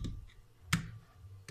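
Metal mesh filter cap being screwed onto an AeroPress coffee maker, giving a sharp close click midway through a quiet stretch, with fainter clicks and handling sounds at the start and end.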